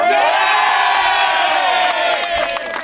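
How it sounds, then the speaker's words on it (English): A crowd cheering loudly at Scottish European election results as the SNP tops the poll, a sustained roar of shouts and whoops that stays strong and close before easing slightly at the end. "No wonder they're cheering."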